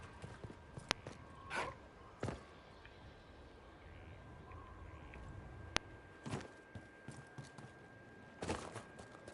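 Sparse horse hoof clops in the video game Dragon Age land in a few irregular steps over a quiet background, with occasional faint clicks in between.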